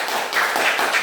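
A school class clapping hands together in a short burst of several rhythmic claps, close and fairly loud, with no voices over it.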